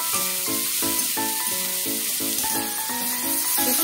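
Tomatoes fry in a wok with a steady sizzling hiss, softening and changing colour, while prominent melodic music with a stepping rhythm plays loudly over the frying throughout.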